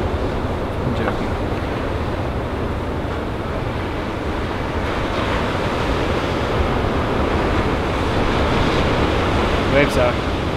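Ocean surf at the Pipeline break rumbles continuously as a broad roar of breaking waves, with wind buffeting the microphone and no speech.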